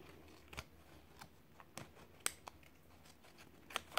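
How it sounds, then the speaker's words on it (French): Scissors snip through paper for a scrapbooking project, several crisp, close cuts at irregular intervals with light rustling between them, and no voices. "Et là, je vais couper"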